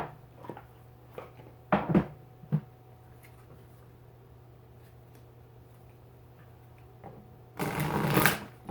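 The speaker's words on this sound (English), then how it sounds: "I love the way this deck shuffles." A deck of oracle cards is shuffled by hand, with a few soft riffling flicks early on and then a longer, louder rapid riffle near the end, with no talking.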